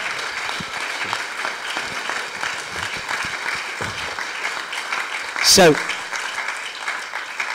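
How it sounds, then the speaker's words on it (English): A church congregation claps together after a prayer, a moderate sustained wash of applause in a large room, with a voice speaking over it and one sharp brief burst midway. "Yeah, you can hear your applause now."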